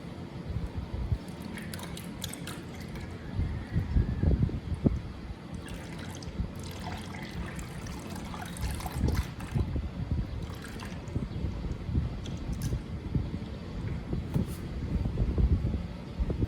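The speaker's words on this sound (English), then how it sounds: "So this oil, with it being a lighter weight viscosity, it flows pretty fast." Light-viscosity motor oil pours into the engine of a 2015 Toyota Corolla 1.8L, a soft steady glugging trickle, close and quiet, with small splashy bursts.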